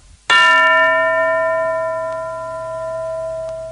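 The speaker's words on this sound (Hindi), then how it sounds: "घंटी बजते ही टीचर जी एक बच्चे को खड़ा करेंगे" A single bright bell strike in a radio English lesson, one sharp clang whose clear ringing tone hangs and slowly fades, heard alone.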